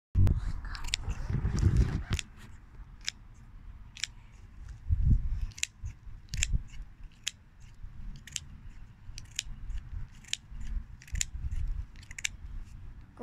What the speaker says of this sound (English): All right, time to cut my tree and the neighbor's tree.